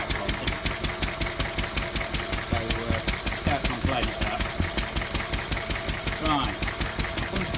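A tractor's engine idles beside a Lister D stationary engine, a steady rapid mechanical knocking thump repeating evenly and close by, with faint talk in the background.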